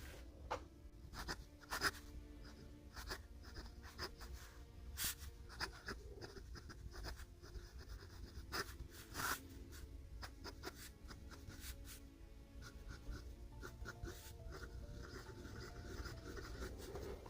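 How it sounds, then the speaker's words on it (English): A Pilot Custom 823 fountain pen scratches across Clairefontaine paper in quick bursts of strokes with short pauses between, faint and close, no voices. "There's not a lot of pleasure going into writing with this pen, but it is very nice."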